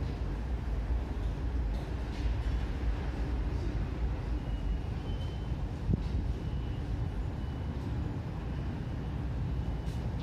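Steady low rumble of a Tokyo Metro Ginza Line 1000 series subway train rolling into Kanda Station, continuous and moderately loud, with no voices.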